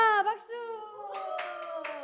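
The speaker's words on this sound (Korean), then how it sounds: "와, 박수!" Children in a church Sunday school class clap several times in a loose rhythm while their voices and a teacher's sustained vocal tone carry over the claps.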